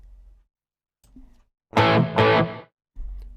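Electric guitar processed through the Waves CLA Guitar plugin with reverb, heard as two loud distorted strummed chords with a short tail, framed by quieter low notes before and after.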